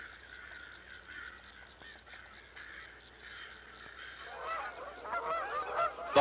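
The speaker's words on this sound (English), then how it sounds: "The honking of Canada geese in flight has a different purpose." Canada geese honk in flight, faint and distant at first, then the calls build into a louder, denser cluster of overlapping honks toward the end.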